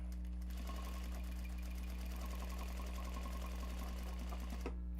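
A sewing machine stitching fabric for a custom bag runs in a steady, rapid mechanical whir with a regular stitching rhythm, close and continuous, with no voices.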